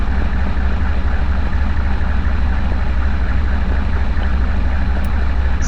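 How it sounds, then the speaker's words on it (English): A running 230 horsepower 1.5 liter V16 model engine drones steadily and loudly throughout, a dense, gruff rumble much like an idling truck engine, with no voices over it. "It's like a truck engine."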